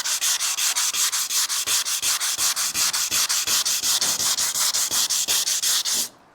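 Used 180 grit sandpaper worked by hand along a boat's gunnels during restoration prep, giving fast, steady back-and-forth scratchy strokes, close and loud, that stop abruptly at the end.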